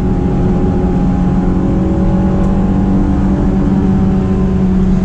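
Engine of a Honda S2000 AP2 with a cable throttle, revving on a mountain road, a steady loud drone holding near and continuous throughout with no talk.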